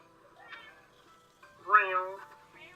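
A person imitates a cat's cry during a tabletop role-playing game, giving a short meow-like sound followed by a louder, drawn-out caterwauling yowl, close and clear.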